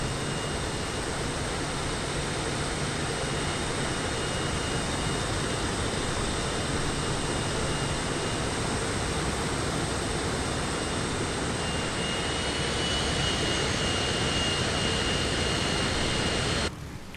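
Aircraft engines drone loudly and steadily in Microsoft Flight Simulator, a constant dense roar with a faint high whine, swelling slightly near the end before cutting off abruptly.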